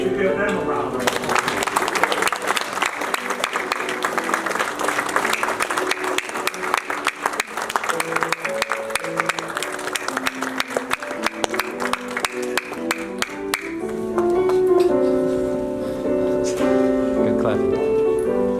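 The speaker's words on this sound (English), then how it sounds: "I think we should give them a round of applause." An audience at an Eagles club president induction ceremony breaks into sustained applause, a dense steady patter of many hands that tapers off near the end with a few voices coming through.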